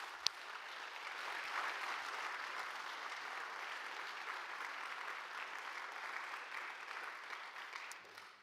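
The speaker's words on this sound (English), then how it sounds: "Applause is in order." Sustained audience applause at an award ceremony in the Peace Palace, steady even clapping from a seated crowd lasting several seconds, moderately distant and without speech.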